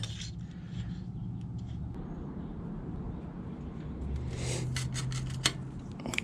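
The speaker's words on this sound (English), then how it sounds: "I'm gonna try using a pipe cutter." A pipe cutter scrapes and rasps around a titanium bicycle frame tube, producing faint, continuous grinding with a few sharp metallic ticks and clicks toward the end.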